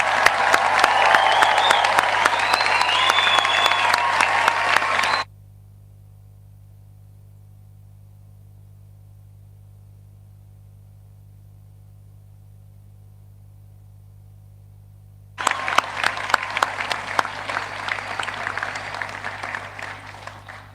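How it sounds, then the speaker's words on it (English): Loud applause from a graduation ceremony audience congratulating graduates, cutting out to near silence for about ten seconds before another dense burst of clapping returns. "let's raise the roof with one final round of applause to congratulate our graduates"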